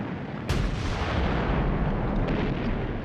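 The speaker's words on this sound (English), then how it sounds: "When the British guns opened up on the Somme on the 24th of June 1916" British artillery guns of 1916 on the Somme, a heavy continuous roar of firing with one sharp, loud report standing out near the start.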